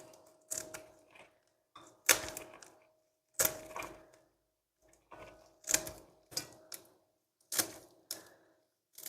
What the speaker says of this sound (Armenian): կտրեմ մկրատով, ավելի հեշտ